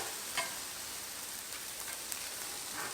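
Shrimp stir fry sizzling steadily on a Blackstone flat-top griddle, a constant hissing crackle with occasional small pops, close and even throughout with no talking.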